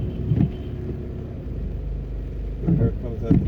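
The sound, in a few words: taxi car approaching on flooded road in Jamaica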